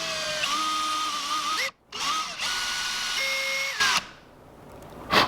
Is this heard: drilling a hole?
yes